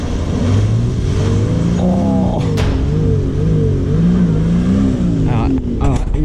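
A 4WD revs hard while stuck on an eroded high-country track, its engine loud and close, rising and falling in strained surges throughout, with a voice briefly under it.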